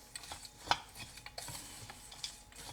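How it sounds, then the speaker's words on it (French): Walnut and brown sugar cake topping being mixed in a bowl, quiet close scraping and light clinks of a utensil in irregular strokes, one sharper tap midway, no voices. "Il nous suffit de mélanger."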